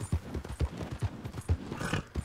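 Horse hooves clip-clop at a steady trotting rhythm in Red Dead Redemption 2, close and distinct with several evenly spaced hoof strikes, heard alone without talk.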